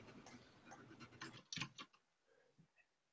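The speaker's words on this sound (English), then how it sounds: "Is that a ticking noise coming through on my mic?" Faint, steady ticking leaks into a microphone during a room recording, a soft regular tick-tock sitting low under the room noise.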